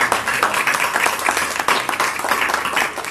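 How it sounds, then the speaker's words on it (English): A panel audience at a candidate forum breaks into sustained applause, dense clapping from many hands filling the room steadily for several seconds. "let's give our panel a round of applause"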